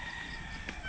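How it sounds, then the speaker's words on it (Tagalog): A rural chicken makes a short, faint call over quiet background noise in a provincial village yard. "malalakas yung mga manok dito"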